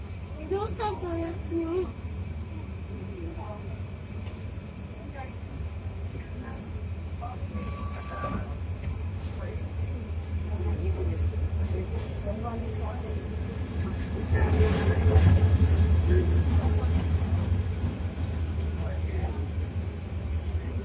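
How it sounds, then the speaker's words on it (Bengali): An oncoming Mohua express train passes a moving train near Tongi junction, a low rail rumble swelling and peaking toward the end. People talk over it, and a brief higher whine sounds midway. "তো সামনে থেকে একটি ট্রেন আসছে"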